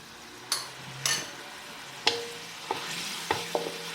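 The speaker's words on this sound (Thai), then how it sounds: "ผัดให้หอมเลยค่ะ เคี่ยวไฟอ่อนๆนะคะไฟอ่อนๆ" Garlic and bean filling stir-fried over low heat for Thai khanom thian: a few separate scrapes and clinks of a spatula against the pan over a faint, steady sizzle, with no voices.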